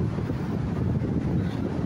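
Wind buffets the microphone in a steady, low rumbling roar on a beach, moderately loud and continuous.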